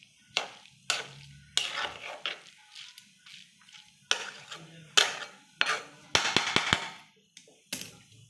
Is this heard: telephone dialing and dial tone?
no